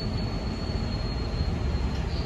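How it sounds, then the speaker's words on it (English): Manhattan-bound R142 No. 5 local subway train at 174th Street, a loud, steady rumble of wheels and motors with a thin high whine running through it, close by. "This is a Manhattan bound 5 local train."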